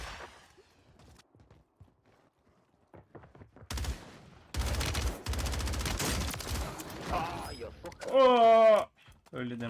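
Gunfire in Warzone 3 crackles in sharp bursts, from scattered single shots to dense rapid automatic fire at close range, with a brief high whine near the end and quieter sounds between.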